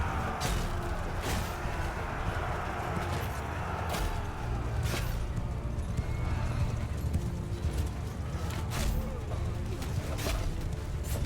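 Horses neigh and gallop in the video game Bannerlord, with dense continuous hoofbeats and several sharp whinnies cutting through a loud, busy battle din that never lets up.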